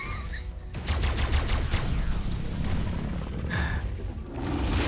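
Rapid gunfire in the video game ARK aimed at a huge Tek Giga, a dense, continuous barrage of loud shots with a brief pause before it starts and again near the end.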